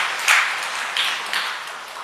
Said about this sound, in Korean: 그래서 저는 여러분들께 감사의 박수를 올려드리고 싶어요.